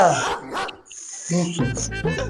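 A street dog barks a few times up close, sharp and loud, with voices talking over and between the barks.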